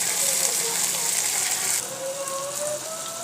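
Spice paste frying in a pan with onion and yogurt, a steady close crackling sizzle that softens slightly partway through, with faint whistling tones over it.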